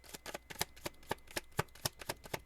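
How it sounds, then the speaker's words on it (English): Oracle message cards being shuffled by hand in a quiet room, a fast run of crisp riffling flicks and soft slaps, close and faint, with no talk. "Whoa, that's my shuffling there."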